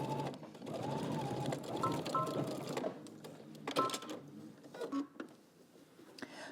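A sewing machine stitches the side seam of a skirt in short runs, quiet and close, its whirring motor stopping and restarting with brief pauses between bursts.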